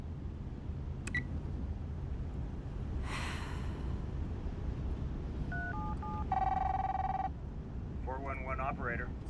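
A telephone is dialed, several clear tone beeps followed by a longer steady dialing tone, heard close over a busy room murmur with a short voice sound near the end.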